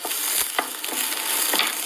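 Vegetables stir-frying in a pan while making pasta, a steady close sizzle with brief sharper crackles and scrapes as they are tossed, no talking.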